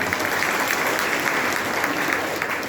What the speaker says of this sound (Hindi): हमारी नन्ही सी परी इशिका के लिए हम जोरदार ताली दें।